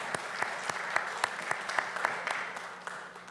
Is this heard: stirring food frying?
no